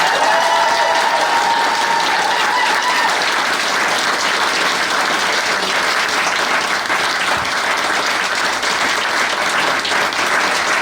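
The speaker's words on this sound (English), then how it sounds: "Ladies and gentlemen, keep the applause going" Wedding guests at a UK civil ceremony applaud the newly declared husband and wife, dense loud clapping that continues steadily throughout, with a brief tone early on.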